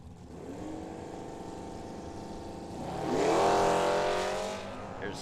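A Camaro and a Mustang drag racing at Firebird Raceway in Phoenix, engines droning at a held pitch before swelling into a loud rising roar as the cars pass near, then fading off.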